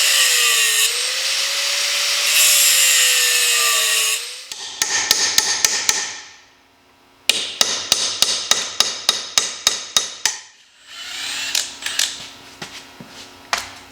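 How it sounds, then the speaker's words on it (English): Welds being cut off a monster truck axle cap: a long grinding or cutting stretch, then a quick run of sharp, loud hammer-like impacts, a short pause, and more rhythmic hard strikes with metallic ringing. "I'm going to cut the welds off of this cap so we can get it off"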